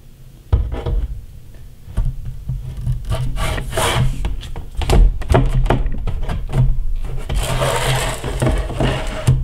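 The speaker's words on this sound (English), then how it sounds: "Dividers are available. And they slide in." Plastic dividers slid into the slots of an Optima film processor tank, a series of close scraping rubs and sharp clicks and knocks, irregular and fairly loud, with a longer sliding scrape near the end.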